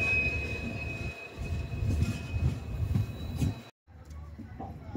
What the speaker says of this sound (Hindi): फाइनली हमारी ट्रेन पूर्णा जंक्शन रेलवे स्टेशन के प्लेटफॉर्म नंबर 3 में इंटर हो चुकी है।